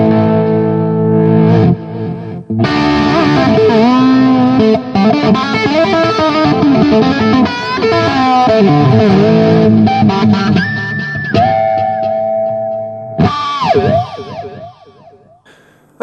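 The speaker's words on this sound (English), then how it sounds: "a pretty cool dirty sound that I can control the amount of distortion I want coming in and out" Heavily distorted electric guitar through a Boss GT-3 effects unit plays sustained chords and bending notes, loud and gritty, with a short pause before the final phrases.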